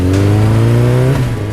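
A motorcycle engine revs hard during a stunt ride on a city road, its steady drone climbing in pitch and then dropping, loud and close with no talk.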